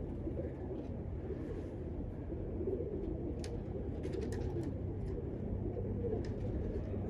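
Cumulet pigeons cooing softly over a constant low rumble of traffic or wind, with a few faint chirps from other birds.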